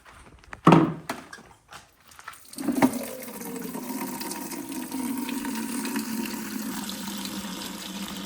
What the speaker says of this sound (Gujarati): જો પાણી ભરાય છે અહીંયા